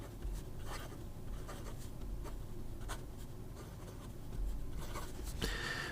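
A fountain pen with a wet, gushing nib writes on paper. Continuous soft scratchy strokes come in a steady rhythm, close and quiet, with faint room hiss underneath.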